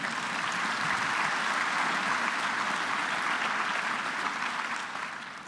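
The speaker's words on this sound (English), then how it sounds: "How about some applause for that?" A large audience at an annual meeting applauds in a dense, steady wash of clapping that fills the room for several seconds and tapers slightly at the end, with no voices over it.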